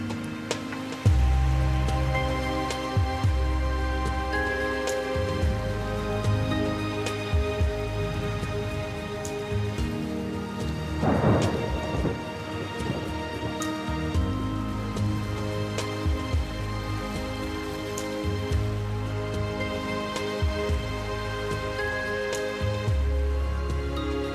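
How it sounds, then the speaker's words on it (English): A rainstorm on a West African island beach brings steady rain hiss over a low, pulsing rumble, with a brief louder burst midway and no talking. "A storm always brings a bit of coolness."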